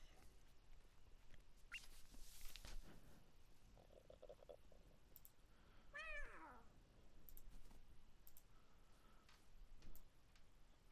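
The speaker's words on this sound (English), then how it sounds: "I was so confused when I heard meowing" Cartoonish cat meows from meow skulls in the LEGO Fortnite game, a short rising-and-falling mew near the middle, heard over soft game ambience with a few other brief chirps and tones.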